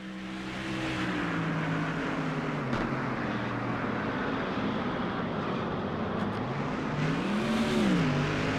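NASCAR race cars in the NASCAR Thunder 04 video game roar around the Watkins Glen road course, giving a steady, dense engine drone with a rising and falling engine whine near the end.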